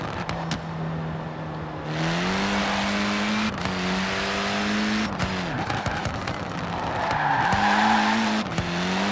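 Hoonigan Ford Focus RSRX in Forza Horizon 4 skids under e-brake, a loud steady engine drone with harmonic tone shifting as revs rise and dip, gritty tire scrub throughout and a surge of hiss near the end, no talk.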